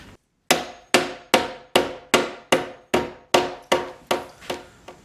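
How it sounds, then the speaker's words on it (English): Steady hammer strikes on metal rod ends, mushrooming them, about ten sharp ringing blows at an even rhythm, loud and close, each decaying quickly. "I'm going to hammer these out and kind of mushroom them that way and this way on both ends"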